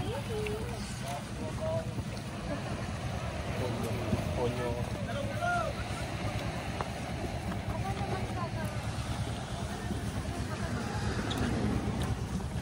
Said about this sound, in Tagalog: sasakay na kami ng bangka papuntang Batanes of the East